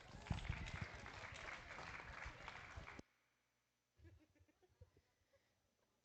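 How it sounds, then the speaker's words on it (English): Crowd applause at a junior livestock show for youth exhibitors of market lambs and ewes, loud and dense for about three seconds, then stopping abruptly, followed by quiet scattered clicks and shuffling. "Let's give these kids a round of applause."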